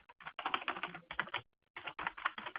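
Rapid typing on a computer keyboard, with dense bursts of clicking keystrokes broken by short pauses, close and fairly quiet, with no voice over it.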